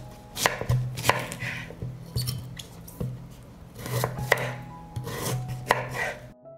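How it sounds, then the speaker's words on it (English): A knife chopping beets into smaller pieces on a cutting board, with steady clusters of sharp, close knocks repeating in an even rhythm. "I will cut the beets into smaller pieces."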